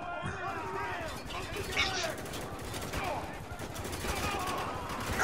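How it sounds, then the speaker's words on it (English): Spec Ops: The Line gunfight in which dense automatic gunfire and scattered shots crackle continuously, mixed with in-game soldiers shouting over the battle. "Who's shooting me?"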